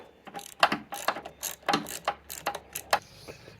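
A ratchet with a swivel-head socket clicks in short, irregular bursts while working on a 1979 Vespa scooter, close and fairly quiet, with no talking.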